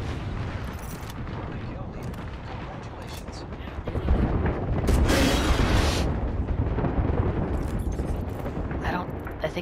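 A grenade blast in the video game Apex Legends, a broad booming burst that swells around the middle of the clip and rumbles on, heard amid continuous in-game gunfire and noise with a player talking over it.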